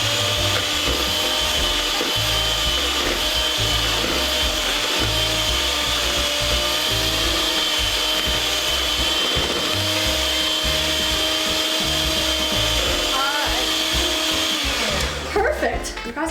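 A steady, loud electric mixer whirs continuously while mixing Christmas cookie dough at home, holding an even drone throughout before cutting out near the end.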